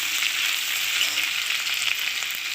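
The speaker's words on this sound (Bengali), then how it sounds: "একটু ভালো করে ভেজে নেব।" Onion and garlic sizzle steadily in hot oil in a pan, a continuous close crackle with no talking.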